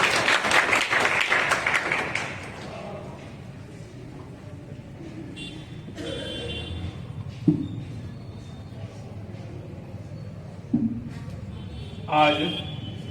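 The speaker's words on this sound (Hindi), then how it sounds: "जोरदार ताली से स्वागत करेंगे" Loud applause welcomes the college principal in the assembly hall of a district youth conference at Madhepura, Bihar. It lasts about two seconds, then fades into room murmur and a few thumps and rustles.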